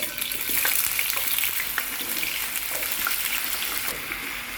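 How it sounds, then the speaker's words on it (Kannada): Cut potato pieces fry in oil in a pan, giving a steady, close crackling sizzle dotted with small pops, with no one talking. "ಈಗ ನೋಡ್ರಿ, ಕಟ್ ಪೀಸ್ ಆಲೂ ಎಣ್ಣೆಗೆ ಹಾಕೋತೀನಿ."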